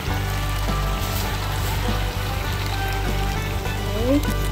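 Coconut milk pours into a hot pan of cowhide sambal, a steady loud sizzling and bubbling hiss that runs unbroken for several seconds while someone talks over it.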